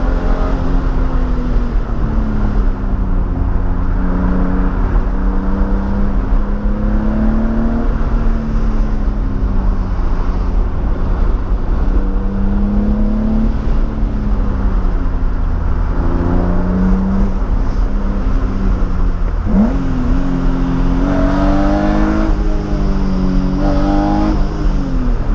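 BMW M3 engine on a steep mountain road descent, a loud continuous drone with the pitch rising and falling through gear changes and throttle lifts, the revs climbing sharply toward the end, with no talking.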